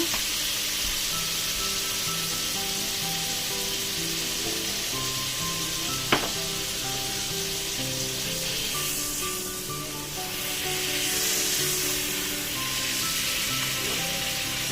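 Chicken pieces dropped into a hot pan of oil give a steady, close sizzle and frying hiss throughout, with a single sharp clatter partway and no talking.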